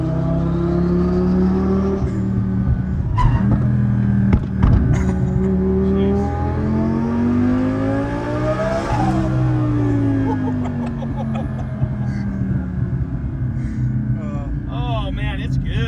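A 2000HP Lamborghini on Toyo R888R tyres launches hard and accelerates, its engine wailing up through the revs in loud rising sweeps with a brief shift dip, then easing off as the run settles.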